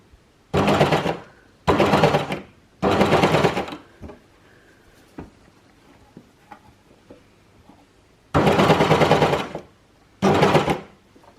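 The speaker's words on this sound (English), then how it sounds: "of the overlocker, I've got the middle one lined up with where the seam is." An overlocker stitches along an ironed-flat seam in five loud, steady bursts of whirring motor, each about one to two seconds long, with quiet pauses and faint handling clicks between them.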